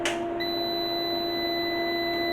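A steady electronic beep tone from an off-grid solar power inverter switching on, with a faint higher whine, starts after a brief click and holds continuously, fairly quiet.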